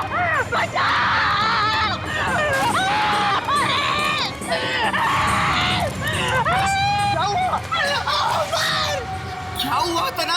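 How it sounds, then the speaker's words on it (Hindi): Screams ring out in a scene from a Hindi horror TV drama, with repeated loud, wavering cries layered over frantic shouting voices and crowd commotion throughout. "क्यों चिल्ला रहे हो?"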